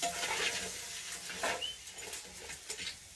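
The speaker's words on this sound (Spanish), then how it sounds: "Vamos a mover los langostinos" Prawns are stirred in a pan with a utensil, giving soft, faint scraping and shuffling over a light sizzle, close and quiet, with no voices.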